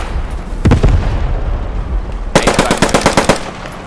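Gunfire in the World War II shooter Post Scriptum, with incoming rounds: a couple of heavy shots followed by a rapid burst of machine-gun fire, loud and close.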